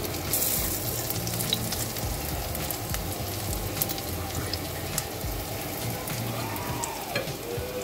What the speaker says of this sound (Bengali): পেঁয়াজগুলো একটু সময় লাগছে, যেহেতু তেলের পরিমাণ কম আর চুলার তাপটাও একটু কমে রেখেছি